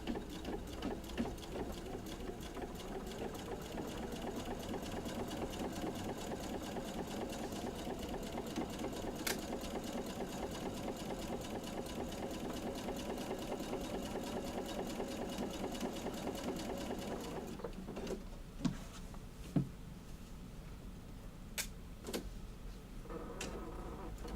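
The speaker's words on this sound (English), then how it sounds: "And then I'm just sewing a 1/4 inch seam all the way down." A sewing machine runs a quarter inch seam with a steady, fast mechanical whir and needle chatter, close and constant for most of the stretch, then stops for a few faint clicks near the end.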